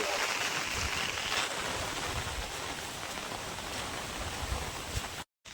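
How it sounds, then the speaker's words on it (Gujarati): Steady, continuous rain pours down at a farm, a dense even hiss of drops that barely shifts in level across the whole stretch, with no voices and only a brief dropout near the end. "વરસાદ જ બંધ નથી થતો કન્ટિન્યુ ચાલુ જ છે વરસાદ"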